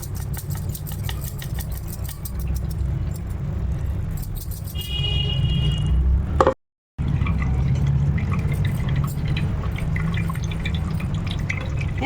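Liquid drips and trickles steadily as a natural summer cool-drink mixture is squeezed through a cloth, a close, continuous wet patter with a brief pause before it resumes.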